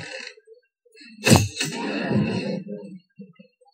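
A horse in a video game lets out a short, close whinny, a sharp burst followed by a longer, rough, wavering neigh. A few faint game sounds come before and after.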